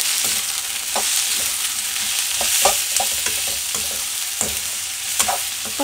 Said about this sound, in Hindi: थोड़ी सी पत्ता गोभी, ये साथ साथ भून लेंगे।